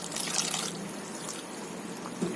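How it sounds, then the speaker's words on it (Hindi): About half a cup of water is poured into thick nalli nihari gravy in a pot, a brief close splashing trickle that fades into quiet simmering, no voices. "तो इसमें हम आधा कप के करीब पानी मिला लेते हैं।"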